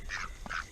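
Ducks fed pumpkin pulp and seeds give two quick, nasal quacks in succession, close and fairly clear over a low background.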